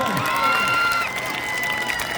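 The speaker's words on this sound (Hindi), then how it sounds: "जोरदार तालियां बजाएं।" Crowd applause and a few cheers break out at an AIMIM political rally speech in Maulviganj, a brief busy wash of clapping with scattered voices rising above it.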